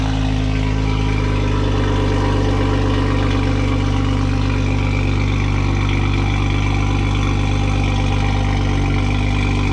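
A Toyota MK5 Supra with a catless downpipe exhaust idles loudly and steadily with a deep, rumbling exhaust drone that holds constant throughout, no other sounds on top.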